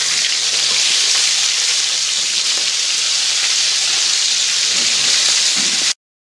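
Burgers sizzle steadily in a hot frying pan, a dense, even crackle and hiss that holds at a constant loudness from start to finish, with no voices over it.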